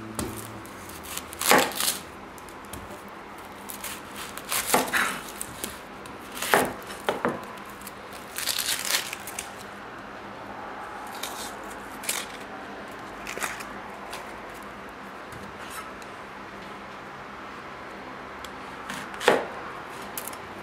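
Vegetables are chopped on a board as prep for a slow cooker goulash, a close knife making scattered sharp chops and short bursts of rapid strokes, then quieter gaps, with no talking.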